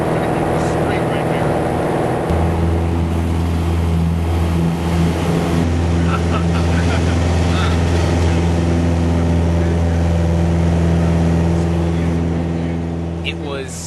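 A small airplane's engine at full throttle during takeoff, a loud, steady droning roar that holds throughout, heard from inside the cabin.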